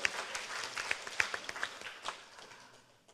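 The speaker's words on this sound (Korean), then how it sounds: "Now, let me hear you big applause for our One Vita." Brief burst of audience applause at a cryptocurrency event in Korea, scattered claps peaking early then fading out within a few seconds.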